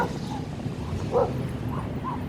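A dog at a dog park gives a few short yips and whimpers, fairly faint against open outdoor background noise.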